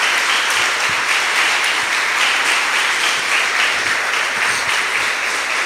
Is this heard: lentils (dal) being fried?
no